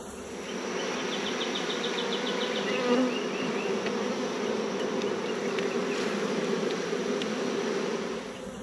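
Dense, steady buzzing of a swarm of bees close by in a swarm trap, a continuous droning hum that holds evenly throughout with no talking.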